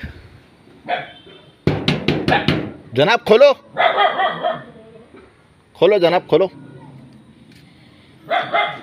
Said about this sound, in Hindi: मस्जिद के अंदर कुत्ते भी है भाई।